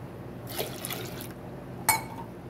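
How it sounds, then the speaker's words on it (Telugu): Water poured from a glass into a pressure cooker holding washed lentils, a short close splashing pour lasting under a second, followed by a brief metallic clink, in a quiet kitchen. "ఇప్పుడు దీంట్లో 2 గ్లాసుల వాటర్ పోసుకుంటున్నాను"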